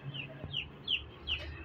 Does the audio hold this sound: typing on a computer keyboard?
no